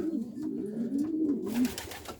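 Racing pigeons shut inside their loft coo in a low, rolling, repeated call, close and clear, with a few faint rustles and knocks behind.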